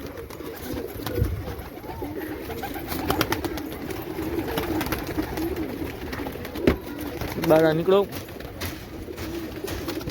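Racing pigeons leaving their loft, with soft cooing and a brief flurry of calls near the end, under steady background noise while someone speaks.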